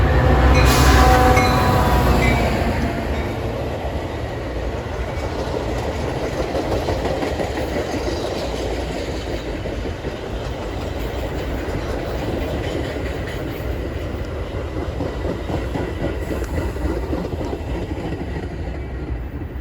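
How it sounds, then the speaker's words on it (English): Metra commuter train 1241, a full outbound run from Chicago, passes through downtown Naperville with a loud rush, then a sustained steady rumble and rhythmic clatter of wheels over rail joints. "we make a quick one-train stop in downtown Naperville for Metra train 1241 coming out of Chicago with another full train of outbound commuters"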